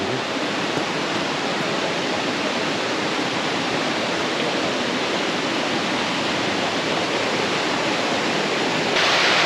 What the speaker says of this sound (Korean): 왼쪽에 이렇게 시원한 계곡을 두고 오른쪽으로 완만한 오름길로 올라가고 있습니다